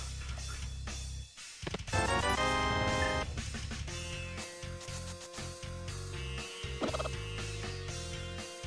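Chicken clucks and squawks from the Zelda: A Link to the Past game, with bursts of agitated clucking over looping game music and sound effects, fairly loud and continuous, with no talking.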